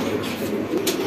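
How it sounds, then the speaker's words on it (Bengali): Pigeons cooing at a pigeon market where birds are sold wholesale; a low, steady murmur of cooing fills the brief moment, close and continuous. "খুব সুন্দর দেখতে পাচ্ছেন দর্শক কবুতরটা"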